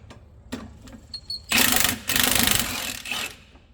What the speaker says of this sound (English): So we'll get the top bolt out of there. And then, like I said, we've got our 18 wrench.